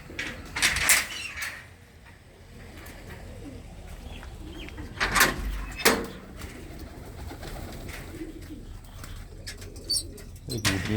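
Pigeons coo in a loft, their calls swelling in a few loud bursts over a low, steady background of shuffling and faint knocks, close by with no talking.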